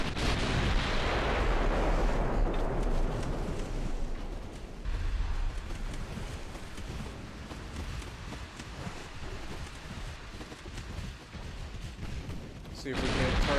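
Warship guns fire in a naval battle in the game Ultimate Admiral Dreadnoughts, loud booming blasts rolling into a dense, continuous rumble of gunfire, strongest at the start and again near the end.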